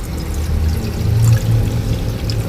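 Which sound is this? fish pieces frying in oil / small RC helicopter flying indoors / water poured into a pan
water poured into a pan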